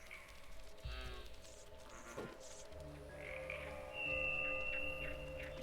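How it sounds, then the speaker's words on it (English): A frog croaking in the video game Away: The Survival Series, faint and somewhat distant amid a quiet forest ambience, with a few thin tonal calls and low rumbles and no talking. "I heard a frog."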